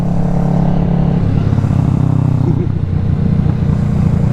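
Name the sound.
motorcycle riding on twisty roads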